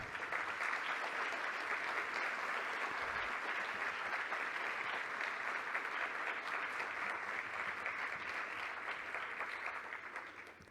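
A crowd at the Lima book fair (FIL 2022) applauds steadily for writer Alfredo Bryce Echenique, a dense sustained clapping that holds evenly and begins to fade near the end.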